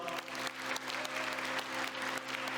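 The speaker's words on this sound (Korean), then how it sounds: "박수 부탁드립니다" Wedding guests break into applause for the bride and groom, a thick, continuous wash of clapping from a crowd filling the hall, with a steady low hum underneath.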